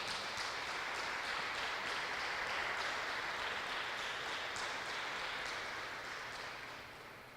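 A church congregation applauds during a sermon, a steady, dense wash of clapping that holds for several seconds before slowly fading.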